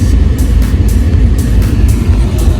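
A car drives along carrying a newborn on a first ride home from a hospital in Denver, Colorado, a close, loud, steady engine and road rumble inside the cabin.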